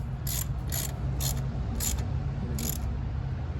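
Valve cover bolts on a 2006 Mitsubishi Eclipse 2.4L are hand-tightened with a ratchet, giving five short, evenly spaced clicking bursts over a steady low hum with no talking.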